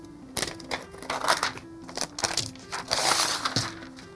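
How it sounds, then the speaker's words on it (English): Parchment paper wrapping is peeled and pulled off a new M2 MacBook Air in midnight color, giving close crinkling, rustling and sharp crackles in irregular bursts, alone without talk. "which we'll go ahead and remove this parchment on."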